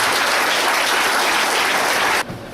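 Enthusiastic audience applause at a Hindi poetry recital welcoming the poet Pandit Narendra Mishra to the stage, a dense, steady roar of clapping that holds for about two seconds, then drops abruptly to a quieter tail.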